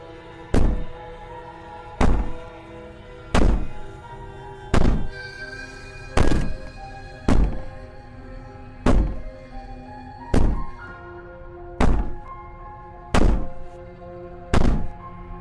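Heavy banging on a wall in the video game Slay the Princess: a slow, regular series of about ten loud, booming thuds roughly 1.5 seconds apart, each with a short resonant tail, over a low droning ambience.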